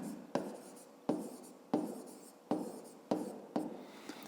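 Hand writing of numbers for a fifth-grade math exercise, heard as six crisp, close strokes of pen or pencil on paper, each a sharp scratch fading quickly, spaced roughly evenly without any talk.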